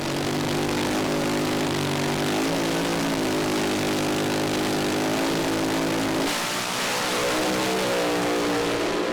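A drag race car makes a timed pass, its engine roaring loud and steady with rising revs over about nine seconds, then a shift in tone near the end as the run continues.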